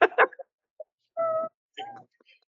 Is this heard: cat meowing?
yes